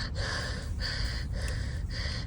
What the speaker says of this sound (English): Am I breathing heavy? I feel like I'm breathing heavy.